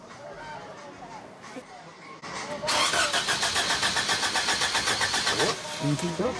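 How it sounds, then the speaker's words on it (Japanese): A Toyota rally car engine cranks briefly and then catches, settling into a loud, close, throbbing idle with a steady pulsing rhythm, while people talk nearby before and during the start. "これエンジンかかったりするんですか。 エンジンかかります。"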